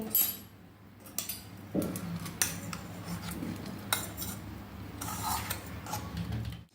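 Ground garlic coconut chutney being spooned from a grinder jar onto a plate, with scattered light metallic scrapes and clinks of spoon against steel and dishware, moderately close with no voices.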